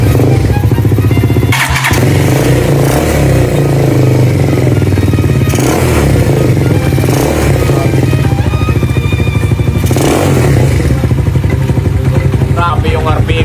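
A Euro 150 motorcycle engine running hard right after its cylinder head bolt is fitted, a loud, close, continuous buzzing drone with rhythmic revving surges and some clatter from the engine.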